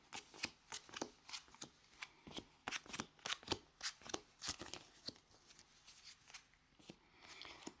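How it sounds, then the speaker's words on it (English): A deck of Yu-Gi-Oh trading cards being shuffled by hand, close and quiet, with steady rapid riffles and snaps repeating throughout and no talking. "Let's start by shuffling the deck."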